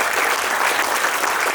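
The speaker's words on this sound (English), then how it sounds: "Big round of applause." Audience at a community forum on the costs of data centers in Frederick County breaks into steady, dense applause, close and loud, holding evenly throughout with no talk over it.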